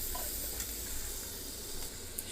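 Dried chillies frying in a pan, giving a faint, steady sizzling hiss that carries on without a break.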